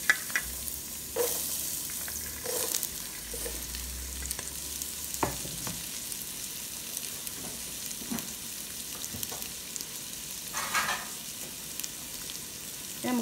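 Small onions sautéing with rice in a pan, giving a continuous soft sizzle broken by occasional stirring scrapes and clinks, close up, with no talking.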